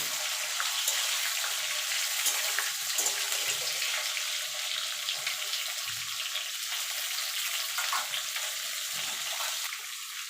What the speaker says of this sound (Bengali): আমগুলো দিয়ে মিনিট দিয়ে একটুখানি ভাজা ভাজা করে নেবো।